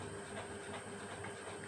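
A train rumbles past with a steady roar and faint rhythmic rattle, heard at a distance and quietly, continuous across the short stretch with no voices.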